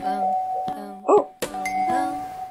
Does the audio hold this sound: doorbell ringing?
yes